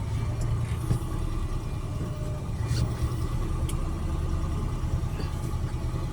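Laboring engine of a heavily loaded three-axle dump truck with double rear tires grinding up a very steep road, a steady low rumble that holds close and loud throughout with no talk.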